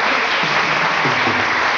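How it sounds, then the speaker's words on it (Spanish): Brief burst of audience applause on a Sunday variety television show, a dense, loud wash of clapping filling the short moment with no talk over it. "Digan si no, con un aplauso"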